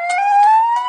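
In the video game Guru Bhai the Gangster, a police car siren wails loud and close. Its steady tone rises slowly in pitch, and there is no talking.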